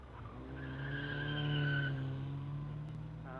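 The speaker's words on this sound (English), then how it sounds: "a struggle for traction for Daniel Me down here at Triangle Bend" Tyres squeal in a drawn-out skid as a hill climb race car at Loton Park's Triangle Bend fights for traction, engine droning underneath, rising then easing over a few seconds.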